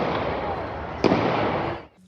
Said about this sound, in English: sudden gunfire stunned everyone. He fired several shots.